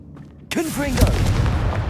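A Confringo explosive spell blast in Hogwarts Legacy, a sudden loud boom after a quiet moment, followed by a crackling, rumbling tail with a voice over it.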